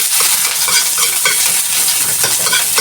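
Garlic frying in a hot pan, a bright continuous sizzle broken by rhythmic scraping and stirring strokes, close and fairly loud.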